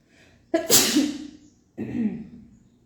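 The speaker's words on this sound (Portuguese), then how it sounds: "Espera aí que eu vou espirrar." Two sneezes close to the microphone: a sharp sudden one, then a second, softer one after a short pause.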